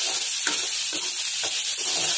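Onions fry in oil in a pan for an Assamese Tai Ahom dish, a steady close sizzle broken by about four regular scraping stirs, with no talking.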